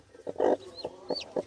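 Domestic hens and young chicks on a home farm, clucking and peeping in short separate bursts with a few higher chirps, close by and fairly quiet.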